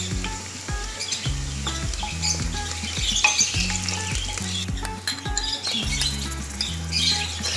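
Sliced onion fries in a pan on the stove, ahead of ginger and garlic for a chicken and vegetable khichuri, sizzling steadily with regular stirring scrapes and utensil clinks, close and moderately loud.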